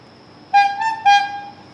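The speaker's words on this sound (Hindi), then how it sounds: "हॉर्न भी है।" A horn, apparently a bicycle horn from the cycling section of a Decathlon sports store in Patna, sounds two close, loud honks in quick succession, each a bright tonal blast that hangs over a quiet store background.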